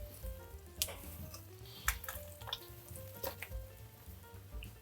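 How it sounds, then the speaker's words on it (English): Tomato sauce is scraped and dumped from a pan into a pot of cooked lentils for an Italian-style lentil and sausage dish. Quiet wet plops and scattered utensil clicks and scrapes come close up, with no talking. "let's take our lentils and we're gonna dump the tomato sauce right"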